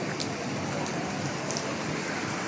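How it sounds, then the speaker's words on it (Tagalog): Heavy rain pouring in the UAE, a dense, steady hiss of falling water with no break, close and fairly loud throughout. "lumalakas na yung ulan"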